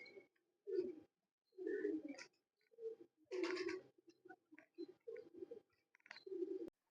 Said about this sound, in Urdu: یہ آخری کبوتر نواں کبوتر بیٹھ رہا ہے